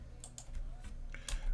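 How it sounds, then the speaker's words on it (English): Someone typing on a computer keyboard: a short run of scattered light key clicks, close but faint, over a low steady hum, with no voice. "So I'm just typing in some actual raw code."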